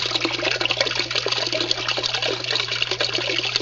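Water streams steadily through an indoor DIY aquaponics setup, a continuous broadband rush and trickle with a low steady hum beneath, close and unbroken, no voices.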